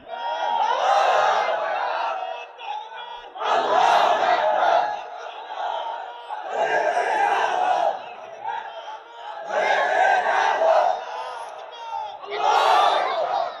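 A large crowd at an Islamic religious gathering shouts the takbir in unison in five loud, swelling chants, each followed by a short lull.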